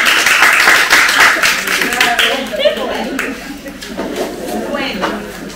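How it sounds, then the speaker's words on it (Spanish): Audience applause at a book presentation: a loud, dense burst of clapping that gradually thins out as a speaker's voice comes in over it. "Se aplaude ahí."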